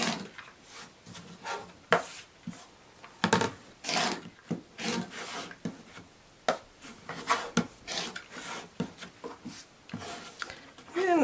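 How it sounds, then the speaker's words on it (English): A rotary cutter slices a 4-inch fabric strip for a quilt block, giving repeated close, rasping scraping strokes in irregular bursts that stop and start throughout. "First, I'm just going to cut a 4-inch strip."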